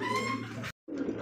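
Racer pigeons coo softly nearby in a short throaty murmur, broken by a brief silent gap before the cooing resumes.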